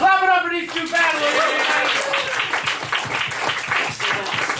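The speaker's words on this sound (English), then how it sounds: "Clap it up for these two battlers." An audience at a comedy roast battle claps and cheers for two battlers, a dense burst of applause lasting several seconds right after a voice finishes speaking.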